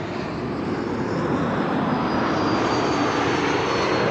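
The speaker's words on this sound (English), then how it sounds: "All the trademark sounds of geared turbofan engined airplanes." An Embraer 195 E2 with geared turbofan engines passes overhead near Amsterdam Schiphol, a loud, steady roar and whistle that fills the whole stretch, with no voices.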